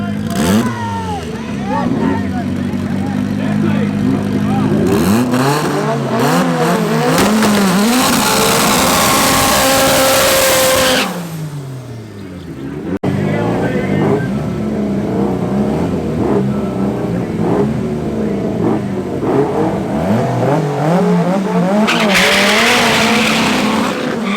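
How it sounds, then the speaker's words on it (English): Opel and VW Mark 1 race cars drag racing at Midvaal Raceway, engines revving hard with rising and falling gear-change sweeps and tire squeal, loud and close, a brief lull midway before another loud run, commentator voices underneath. "Up next we got Theo in his Opel going up against the VW Mark 1"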